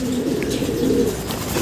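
A racing pigeon coos in low, steady, rolling tones close by, amid a dense hum of other birds at a loft during a pigeon race arrival.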